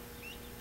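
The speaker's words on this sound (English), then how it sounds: "Now, that's a pretty rooster." A rooster kept among handled backyard chickens lets out a single brief, faint cluck at the very end, with only quiet room noise before it.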